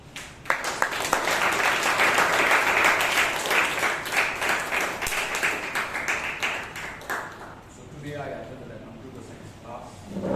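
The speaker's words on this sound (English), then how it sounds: "A big round of applause to Anand, please." A Toastmasters audience in Bangalore gives a round of applause for a speaker, brisk clapping that fills most of the stretch before thinning out, with talking emerging as it fades.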